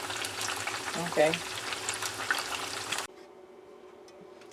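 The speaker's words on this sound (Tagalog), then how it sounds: "So, prito muna natin ng tokwa." Tofu sizzles and crackles loudly in hot oil, with a brief spoken word over it, then the frying suddenly drops away to quiet.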